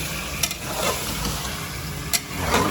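Mutton curry being stirred in a pan, a low steady sizzle with two quick scraping strokes of a spoon against the metal, fairly quiet and close, with no one speaking.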